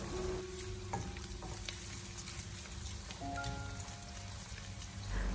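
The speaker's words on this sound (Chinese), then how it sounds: "接着再把切好的姜蒜片还有小米辣放进锅中，继续的开小火，不停的翻炒一下，把姜蒜的香味翻炒出来" Pork fat stir-frying over low heat in a wok with sliced ginger, garlic and small chili peppers, a steady soft sizzle with the scrape of continuous stirring, close and alone.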